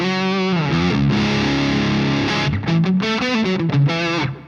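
An EVH 5150 III EL34 amp on the blue channel delivers a distorted classic rock guitar tone, with sustained chords and then choppy, rhythmic strummed stabs, loud and continuous without any pedal fuzz.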